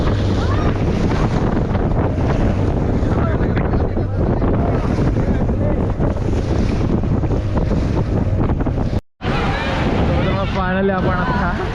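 Strong sea waves roll onto the shore near Kulaba Fort at Alibag during high tide, a loud continuous surge buffeted by wind noise, with a brief dropout and then voices near the end.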